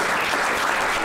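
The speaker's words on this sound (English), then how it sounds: "Round of applause for the effort." Audience applause for a contestant's effort at a school spelling bee, a dense, steady wash of clapping that fills the whole short moment at close range.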